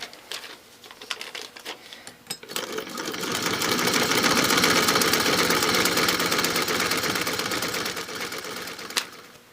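Sewing machine stitching quilt pieces for a Prickly Pear quilt, starting with a few short bursts and then running in a long steady whirring stretch with a rapid needle rhythm, close and fairly loud.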